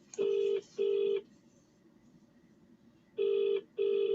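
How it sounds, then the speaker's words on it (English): Telephone keypad tones from a call being placed, four clean dialing beeps in two pairs separated by a pause, clear and close. "I'll phone company's house in England."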